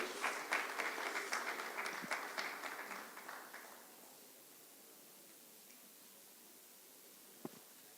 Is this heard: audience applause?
yes